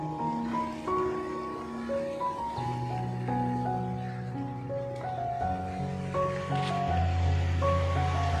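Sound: water flowing in a canal by an old bridge

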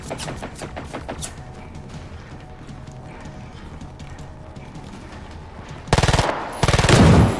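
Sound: gunfire from artillery and shotguns in video game Generation Zero

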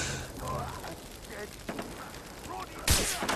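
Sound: gunfire in video game Far Cry 3

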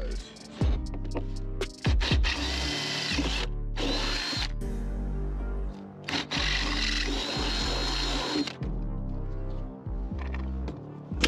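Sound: power drill drilling 5/16 inch hole

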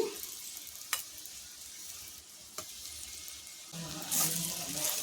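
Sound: stuffed okra (bhindi) frying in a pan

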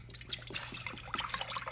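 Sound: pouring coolant into a beaker

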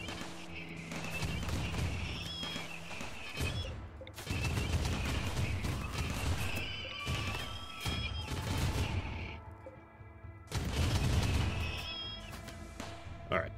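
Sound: turret gunfire in the video game RimWorld

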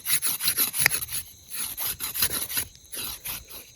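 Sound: rolling out puri dough with a rolling pin

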